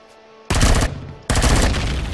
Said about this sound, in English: Let's see if it starts shooting again.